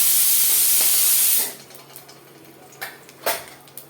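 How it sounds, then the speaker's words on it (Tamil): Mustard seeds, with urad dal nearby, sputter in hot oil while beetroot curry is tempered: a loud steady sizzling hiss drops away after about a second and a half, leaving scattered sharp pops and crackles. "இப்போ வந்து கடுகு நல்லா வெடிக்கிறது."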